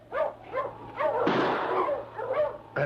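Sled dogs in a Yukon radio drama bark in short repeated yelps and whimpering cries, several bursts in quick succession, close and fairly loud, with a brief rush of noise in the middle.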